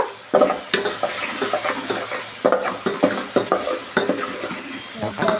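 Pasta sauce with a pinch of chilli powder being stirred in a pan, a spoon scraping and clacking in repeated strokes over a steady close sizzle.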